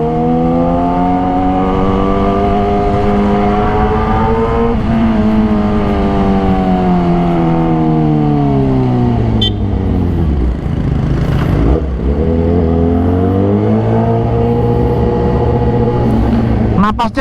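A modified 2020 Kawasaki ZX-636 with a full-system exhaust and spin air filter roars steadily at close range. Its pitch climbs, dips briefly mid-ride, then rises again as the throttle opens.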